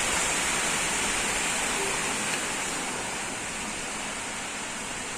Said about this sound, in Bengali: অসম্ভব বৃষ্টি, আর সঙ্গে এত হাওয়া